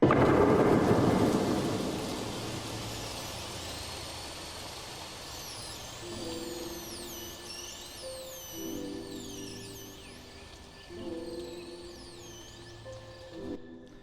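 Airy, swept wavetable synth tones built from harmonics, transistor saw and swept noise glide and swirl up high over a bed of soft noise and rumble, with short tonal chords pulsing underneath.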